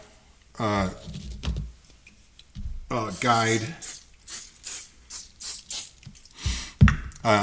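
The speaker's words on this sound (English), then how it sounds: "I'll take my ballistol and spray it on there just like that, all along the op rod" Ballistol lubricant sprayed along the operating rod of an M1 Garand rifle, a few close hissing bursts in quick succession with someone talking between and over them.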